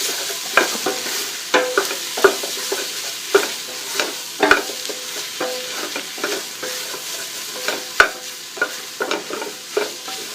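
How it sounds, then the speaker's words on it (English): Browned ground meat being stirred in a hot pan for lasagna, with steady sizzling frying under repeated scraping strokes of a utensil against the pan bottom, close and loud with no talk. "We'll stir that in, get that heated up."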